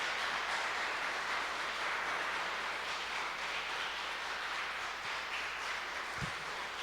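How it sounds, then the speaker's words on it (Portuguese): A church congregation at a Sunday celebration service applauds in a continuous, dense wash of clapping that holds steady from start to finish. "Você pode aplaudir a Ele em nome de Jesus?"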